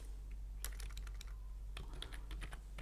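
Java code being typed on a computer keyboard, a quiet run of irregular key clicks in short bursts with pauses, heard close over a low steady hum with no voice.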